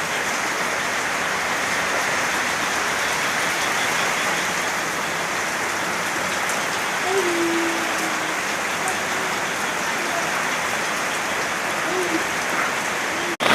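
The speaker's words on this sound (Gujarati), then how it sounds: "તો મિત્રો જુઓ જોરદાર વરસાદ આવી રહ્યો છે।" Heavy rain pours down steadily and loudly in a dense, even hiss of drops hitting the ground and surfaces. Cattle stand out in it on a rural homestead, and no voices break through.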